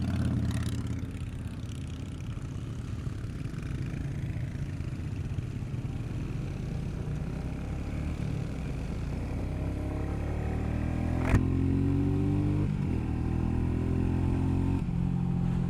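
A 2021 Royal Enfield Meteor 350 Fireball single-cylinder engine revs and drones steadily while ridden, its pitch rising through a gear near the end, with wind rush layered over the low rumble and no talking.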